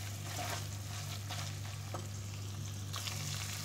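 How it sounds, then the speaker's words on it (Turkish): Food sautéing in butter in a pan on the stove, a steady close sizzle with a constant low hum underneath and occasional stirring scrapes. "Biraz hafif kavurmaya devam ediyoruz."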